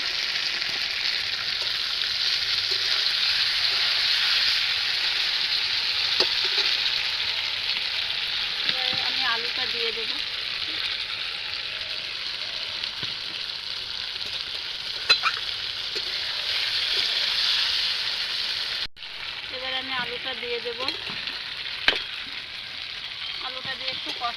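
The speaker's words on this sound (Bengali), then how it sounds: "মাছগুলো আমার কিছু ভাজা ভাজা হয়ে যাচ্ছে দেখি" Pangas fish frying with spices in a pan, a loud steady close sizzle lasting throughout, with occasional clicks and a few faint voices in the background.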